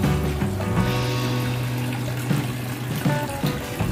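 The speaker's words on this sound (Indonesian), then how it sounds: "nah ini sudah keluar ya airnya" Water gushes steadily from a small solar-powered 8 watt DIY pump, a continuous near splashing flow with a low tonal hum running underneath.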